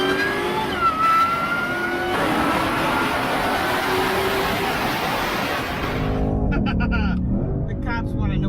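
A 2020 Shelby GT500 in sport mode revs and accelerates loudly from inside the car, its engine roaring steadily before dropping off, with voices talking over it.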